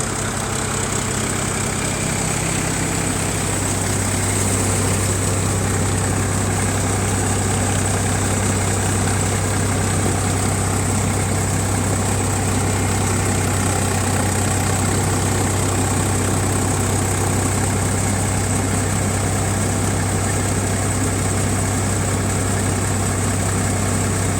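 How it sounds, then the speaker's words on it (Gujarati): Tractor engine idling with no load during wheat harvest work, a loud, steady low rumble with a constant hum and vibration, unbroken throughout and with no voices. "બિલકુલ પણ લોડ નથી ટ્રેક્ટર એકદમ ફ્રી ચાલે છે"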